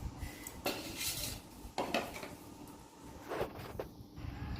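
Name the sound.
cutting taro flowers into small pieces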